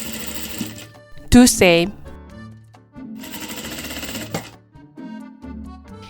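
A sewing machine stitches a fabric face mask in short mechanical bursts, clattering fast between pauses, up close, with a brief spoken phrase in between.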